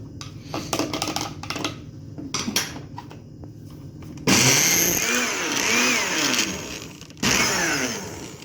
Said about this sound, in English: sounds like something got stuck on the blade